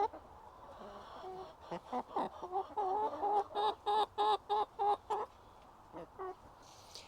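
Chickens being handled by hand, giving a run of short, regular clucks and squawks in a rhythmic series, close and moderately loud with no talk over them.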